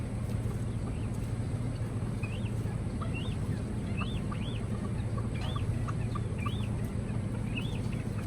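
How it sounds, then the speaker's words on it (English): Several chickens in a coop give repeated short clucks and rising calls, scattered at an irregular pace over a constant loud background hum. "Just a couple different chickens in here."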